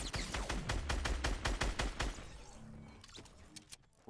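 Rapid gunfire from a Fortnite Battle Royale match, shotgun blasts among a dense volley of loud, sharp shots in quick succession, which thin out into scattered impacts and quieter game sounds.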